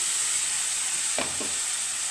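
Spice paste of onion, green chili and ginger with turmeric and salt frying in a pan, a constant close hiss of sizzling with a couple of brief stirring scrapes midway.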